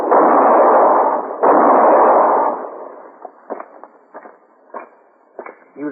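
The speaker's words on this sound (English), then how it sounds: "He was going to shoot Mr. Hinkle" A gunshot in a Western radio drama rings out as two loud, sustained booms close together, the second slightly later, then fades into a few sharp clanks and squeaky metallic hits.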